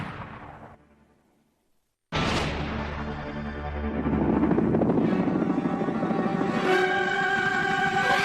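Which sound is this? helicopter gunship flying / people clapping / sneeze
helicopter gunship flying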